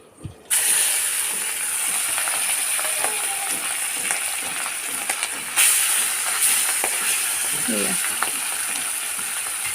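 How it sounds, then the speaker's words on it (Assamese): Small ari fish sizzle steadily in hot oil, a dense continuous frying hiss that starts abruptly after a quiet moment, with occasional clinks of a utensil against the pan. "আৰু এয়া বাকী থকা মাছবোৰো এনেদৰে মই ভাজি ল'ম।"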